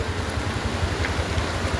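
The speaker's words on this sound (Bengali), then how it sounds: "এ হচ্ছে বৃষ্টি" A brief, steady hiss of rain comes down on a waterlogged town street, Justice Daroga Road, as an even close-up wash of noise with no voices.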